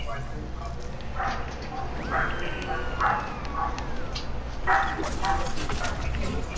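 A dog barking and yipping repeatedly in the background during a Fortnite game session, with voices talking over it.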